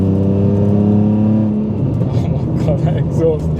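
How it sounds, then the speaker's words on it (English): A modified, manual-swapped BMW E46 330ci revs loudly with a harsh, droning aftermarket exhaust note, then rumbles and pops as someone talks over it. "That exhaust is so loud."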